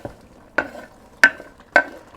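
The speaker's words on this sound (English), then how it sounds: "so we're going to put in squash and zucchini" Chopped squash and zucchini pieces dropped into a pot of veggie chili, with three distinct soft thuds and clatters spaced about half a second apart, close and moderately loud against quiet background.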